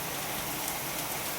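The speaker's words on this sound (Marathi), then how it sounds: "तर बघा खूप असा पाऊस येतो आहे" Heavy rain pours down outside a home in the afternoon, a dense, constant hiss of drops with no talking.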